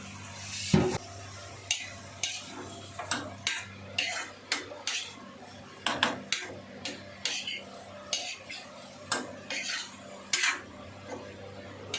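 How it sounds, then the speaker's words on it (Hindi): Vegetables sizzle softly as they are tempered in a pan while a spoon scrapes and stirs in a steady rhythm of repeated clinks. "तो सब्ज़ी छौंक दी है और इसको ढक के रख दिया है"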